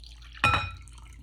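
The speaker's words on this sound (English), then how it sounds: "pour our 2 cups of milk in" Two cups of milk poured into Jell-O pudding mix, a sudden splashing gush that quickly fades into a short liquid trickle, close and clear with no talking.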